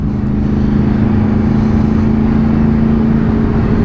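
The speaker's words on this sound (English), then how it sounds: "So here I am, pootling along on a near on 200 horsepower super sports bike" A Yamaha YZF-R1 1000cc superbike of nearly 200 horsepower cruising gently, its engine a loud, steady drone from the rider's position with constant wind rush.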